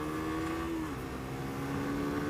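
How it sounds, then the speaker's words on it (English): A Suzuki GSX-S125 motorcycle engine holds a close, steady high-revving drone as it accelerates uphill. Its pitch dips once, then settles back into a continuous strained whine. "So I imagine it will need plenty of revs to get up there."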